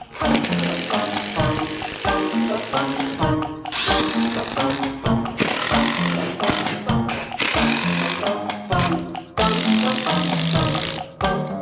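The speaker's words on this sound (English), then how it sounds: "what we're going to do is actually screw it down to the lofting board so it won't shift around on us" Screws driven in short bursts with a power drill to fasten a boat mould to a plywood lofting board, loud and close, with ratcheting whirs starting and stopping repeatedly.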